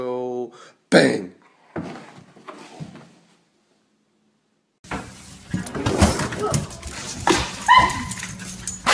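A pet dog barks and yelps in short bursts early on, then whimpers and whines amid livelier household noise and people talking.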